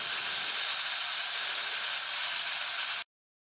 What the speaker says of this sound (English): Always put a towel over your Instant Pot when you release the steam so you don't burn yourself